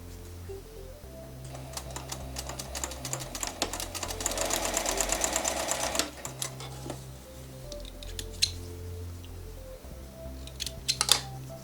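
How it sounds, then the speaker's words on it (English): A sewing machine joins quilt pieces with a rapid mechanical stitching whir that runs steadily for several seconds, then settles into softer clicks and taps as the fabric is handled, close and fairly quiet. "And I'll sew these 2 sets of 2 together."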